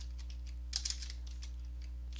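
Several light keystrokes on a computer keyboard come in a short cluster, with a few faint taps around it, heard close over a steady low hum and no talking.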